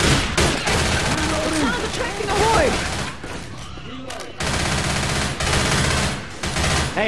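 Sustained automatic gunfire in Left 4 Dead 2, a loud, close, nearly continuous rattle of shots with brief gaps, under frantic voices and in-game chatter.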